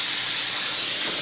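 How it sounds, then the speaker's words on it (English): An airbrush hisses steadily as its trigger is pulled back and air rushes through, a close, even, continuous hiss with no talking. "pull that trigger back, you get a combination of air and paint"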